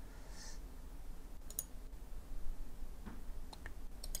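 A few faint, sparse computer mouse clicks over a steady background hiss, isolated taps spaced irregularly with no talking.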